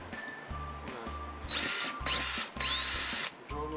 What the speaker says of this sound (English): Drill a new hole in there.